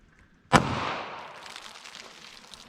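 A single sharp report from a .32 H&R Magnum revolver, close and loud, followed by a short decaying echo and then quiet.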